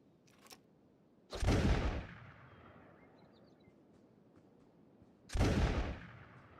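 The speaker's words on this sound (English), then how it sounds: "Ruka's shooting and missing too, and after I called you all a well-trained musket team" Musket fire in the game Kenshi: two loud, close single gunshots several seconds apart, each a sharp crack with a decaying boom, alone and without voices.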